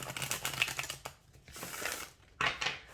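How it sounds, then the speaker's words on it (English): A deck of movie-themed tarot cards with slightly stiff cardstock is shuffled in quick, crisp riffling bursts with a pause in between. The sound is close and fairly quiet, and no one is talking. "let's see how it shuffles"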